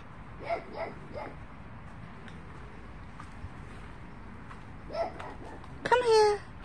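Small dog giving short whimpering yips, a few at the start and again later, then a louder sharper bark-like cry at the end, close by against faint outdoor background.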